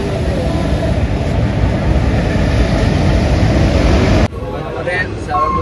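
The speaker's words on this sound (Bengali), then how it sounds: "আমাদের হাওড়া থেকে ট্রেন ছেড়ে দিয়েছে, এখন আমরা কম্পার্টমেন্টের মধ্যেই রয়েছি" Loud, steady rumble inside a moving general-class train compartment on an express out of Howrah, a dense broadband roar that holds for about four seconds before dropping sharply and easing into quieter rolling noise.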